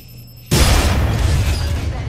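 A loud explosive blast erupts in an Apex Legends-style battle royale game after a brief lead-in, then its broad rumbling boom and debris roar sustain steadily to the end.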